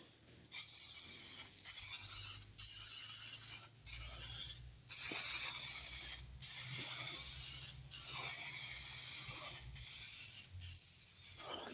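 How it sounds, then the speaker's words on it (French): A nearly empty spray paint can is shaken while repainting the tailgate of a Peugeot 306, producing repeated rattling bursts in a fairly regular rhythm, close by and fairly quiet. "On va bien secouer la bombe parce que j'ai l'impression que la bombe elle est déjà au bout de sa vie."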